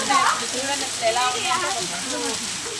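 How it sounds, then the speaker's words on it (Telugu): Hailstones pour down heavily in a village during a rare hailstorm, a dense steady patter and sizzle of ice hitting surfaces close by, with scattered louder impacts throughout. "రాళ్ళ వర్షం అసలు చాలా రోజుల తర్వాత ఇదే ఫస్ట్ టైం"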